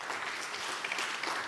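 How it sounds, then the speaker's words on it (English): Steady applause from a conference keynote audience, a dense wash of clapping from many hands, continuous and fairly distant. "So a big round of applause."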